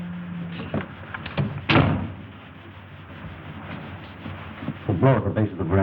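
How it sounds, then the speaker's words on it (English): A door closes in a 1937 film scene, a sharp single thud near the middle amid room tone, with voices talking before and after. "Close the door."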